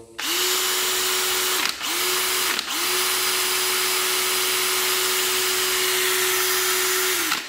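A Bosch HDH183 cordless drill runs near and loud as a steady high whine, stopping twice for short breaks before settling into one long continuous run, with no voices.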